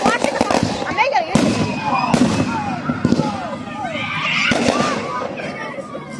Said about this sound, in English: We're in Greenfield watching the fireworks from the All-Star Hammer game.